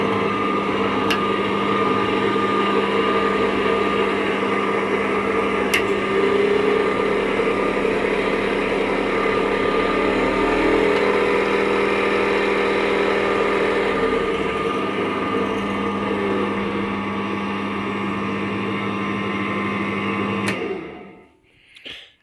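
A Perform CCL variable-speed lathe runs steadily with its headstock rebuilt on new bearings, belt and motor pulleys. Its motor hum shifts slightly as it is stepped through the gears, stays loud and continuous throughout, then cuts off near the end.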